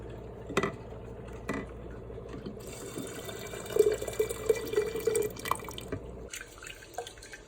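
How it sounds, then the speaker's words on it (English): Sprouting seeds being rinsed in a jar, water dripping and trickling close by with a few light clinks of glass, quiet and intermittent. "You can see day 2, the seeds are starting to open. And you're going to rinse it."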